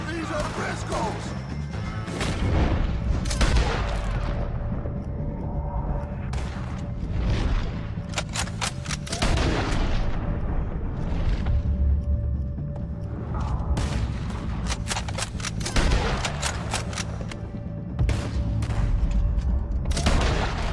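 Gunfire in a Red Dead Redemption 2 shootout against O'Driscolls, sharp shots and crashing bursts scattered across a long stretch, some close and loud, with voices talking among them.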